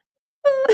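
A voice imitates a child whimpering in a bathroom stall: one short, close, wavering moan that breaks into a higher, shaky sob at the end.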